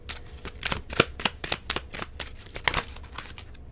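Tarot cards being shuffled and drawn at close range, a run of crisp riffling snaps and flicks in an uneven rhythm, with no one speaking.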